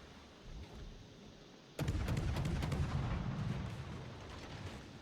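Naval gunfire from an enemy ship in the video game World of Warships: a sudden loud blast breaks a quiet rumble, followed by several rapid cracking shell impacts and a rolling, sustained boom that slowly fades.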